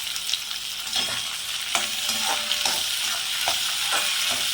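Tomatoes with rock salt sautéing in a pan for a prawn thokku, giving a steady close sizzle with repeated scraping stirs of a spoon, no talking.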